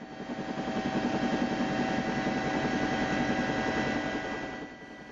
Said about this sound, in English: this helicopter landing was quite sudden.